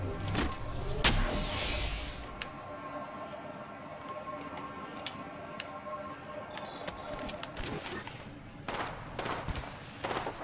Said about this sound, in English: Nice, they're shooting each other now.